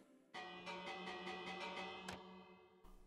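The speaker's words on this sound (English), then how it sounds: "Minister Dream, do you mind if I slap this bell?" A bell in Minecraft struck several times in quick succession, producing a faint, sustained ringing tone with repeated attacks that ends abruptly.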